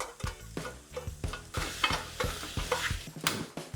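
A pan is scraped clean of burnt bistek residue with a paper towel, making repeated short rasping strokes in a steady rhythm with small knocks against the metal, close and fairly loud.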